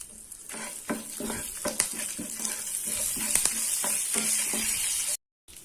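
Dried red chillies and a sprig of curry leaves hit hot oil in a pan for an onion thokku, giving a steady close sizzle with sharp crackles and pops, then a brief cutoff to silence near the end.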